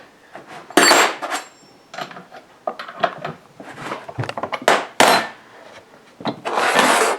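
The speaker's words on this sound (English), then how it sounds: "So what I'll do here, Dave, is I'm going to loosen the chain." Chainsaw chain being loosened by hand, with bursts of scraping, rubbing metal-on-wood and tool clicks in irregular close-up handling noises, no talking.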